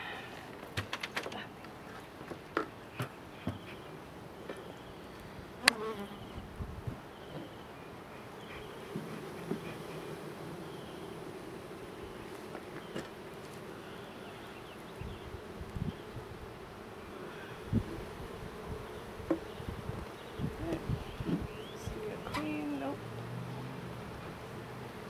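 Honey bees humming steadily around an opened hive during an eight-week inspection, a constant low buzz with scattered clicks and handling knocks throughout.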